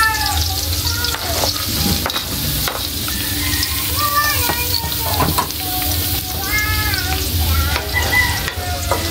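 Pakbet vegetables frying in a pan are stirred, a loud constant sizzle with repeated scraping strokes up close, while a rooster crows in the background.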